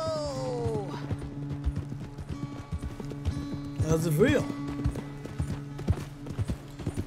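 Horse hooves clip-clop in Red Dead Redemption 2 as a rider picks up pace, a steady hoofbeat rhythm under talking voices, with a brief whinny midway.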